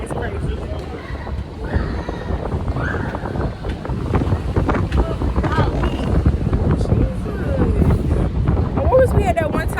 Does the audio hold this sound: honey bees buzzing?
no